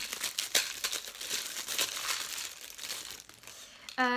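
Plastic packaging around a black glitter ink pad crinkles and crackles close up as it is opened, in a run of irregular rustles that ends with a brief sharp tearing sound.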